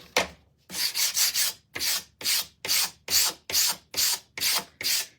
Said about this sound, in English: I like it a little bit more sanded.